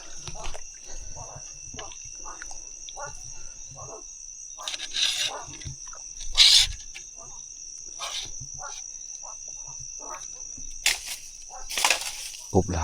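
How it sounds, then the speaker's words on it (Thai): Frogs calling in a forest at night, a dense steady chorus of shrill calls with bursts of louder croaking, heard alongside insect-like trilling; a person talks now and then underneath. "กบหลายอีหลีทุกคน"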